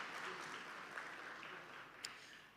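Seminar audience applauding a doctor at a traditional leadership event, a faint, steady wash of clapping from a distant crowd lasting the whole stretch, with a couple of sharper claps standing out.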